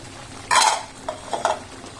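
A utensil stirring ground coriander, pepper and cumin into opor ayam in a pot, one loud scraping clatter followed by a few lighter knocks against the pot.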